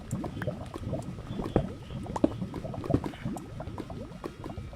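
Liquid gushes from a freshly dug hole in the Minecraft-style game Pokecube, a continuous bubbling, gurgling flow that stays fairly loud and even throughout.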